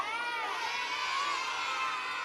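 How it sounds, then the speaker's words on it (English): An audience at a live-streamed event cheers and shouts steadily, a dense, bright wash of voices held at an even level throughout. "She's cheering you on."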